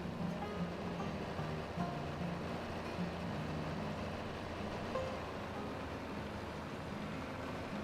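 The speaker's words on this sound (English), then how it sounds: "Spinning my tires with water?" Tires spinning through water in Farming Simulator 22, a steady rushing wash with a low droning hum underneath, continuous and fairly loud from start to finish.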